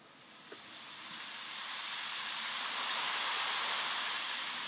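Steady rain in the block-building video game The Blockheads, a dense, even hiss that swells gradually and holds loud and close without a break.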